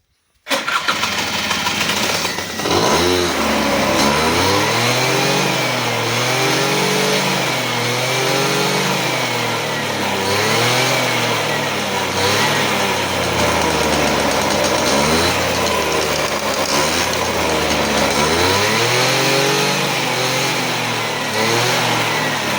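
A Honda Lead 90 scooter engine starts up and revs repeatedly, rising and falling in pitch in uneven bursts, loud and close, with no talking.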